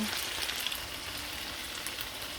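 Potatoes fry in a pan for pork kaldereta, a steady close sizzle and crackle with no talk.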